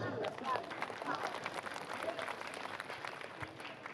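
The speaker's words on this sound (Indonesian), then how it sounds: "Aplaus." Audience applause at a Haflah Akhirussanah year-end celebration during a Qiro'atul Kitab book-reading demonstration: steady, dense clapping held at an even level throughout, with some voices mixed in.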